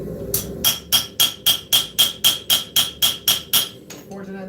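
A hammer forging a distal taper into a knife blade on an anvil: about a dozen loud, ringing blows in a steady, even rhythm, close by.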